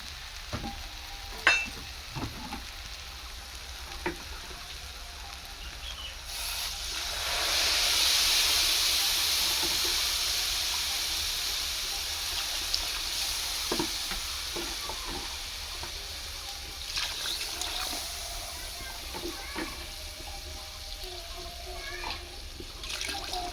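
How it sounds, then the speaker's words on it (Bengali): Water poured into a pot of raw rice for Basanti pulao, a steady rushing pour that swells around the middle and tapers into a softer trickle, with light clinks and kitchen clatter throughout. "এখন আমি জল দেবো"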